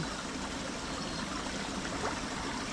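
Irrigation water flows steadily into a rice paddy, a soft continuous trickle and rush heard fairly quietly and unbroken, with no voices.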